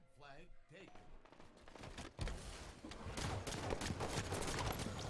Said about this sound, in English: Ooh, nice shots.